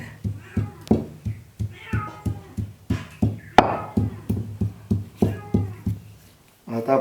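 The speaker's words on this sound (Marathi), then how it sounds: "बाजूच्या जंगलातली मांजर सुद्धा इकडे यायला लागली" A cat meows repeatedly nearby, short insistent cries in a quick, fairly regular rhythm, with a brief pause near the end.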